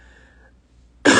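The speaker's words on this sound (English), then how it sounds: "I have this cough" Near silence, then one sharp, close cough bursts out at the very end.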